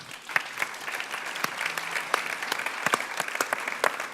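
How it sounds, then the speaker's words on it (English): A conference audience applauds a blockchain marketing panel: a steady wash of many hands clapping, dense and continuous, with a few sharper claps standing out nearby. "Please give them all a warm round of applause."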